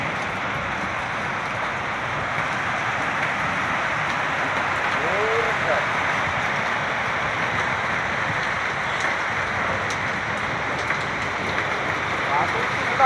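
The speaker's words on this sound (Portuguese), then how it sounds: "essa é a situação com a chuva forte" Heavy rain pours over the town centre of Joaçaba in Brazil during a storm, a steady dense hiss that stays constant throughout, with faint background voices.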